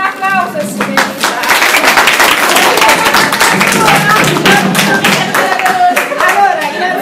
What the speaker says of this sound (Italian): Un applauso, signorina